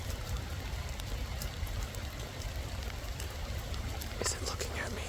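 Rain falls beside a river on a rainy RV camping day, an unbroken wash of pattering drops and running water at moderate level, with a few brighter drip ticks standing out toward the end.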